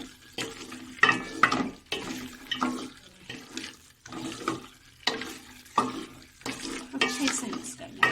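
Besan badi curry stirred in a handi, giving rhythmic wet scraping and sloshing strokes about once a second, close by and moderately loud with quiet gaps between strokes.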